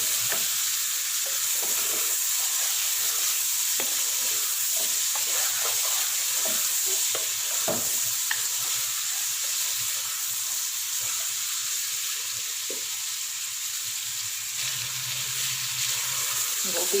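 A kilo of chopped cauliflower (gobhi) fries in oil for a Punjabi-style mixed sabzi, a constant close sizzling hiss with repeated spoon scrapes and knocks against the pan, loud and steady, without talk.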